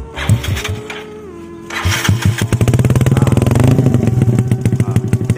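A Yamaha Mio carbureted scooter engine bored up to 155 sputters, catches and revs repeatedly with throaty bursts, loud and close, settling into a rough, pulsing idle between blips.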